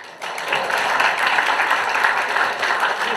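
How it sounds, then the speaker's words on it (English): An audience at a university event claps together in a steady, full round of applause that swells quickly and holds for a few seconds. "we should all clap"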